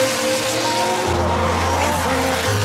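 A drift car at Motopark Toruń holds a sustained engine drone that shifts pitch partway through, with tyre noise layered over it, loud and continuous with no speech.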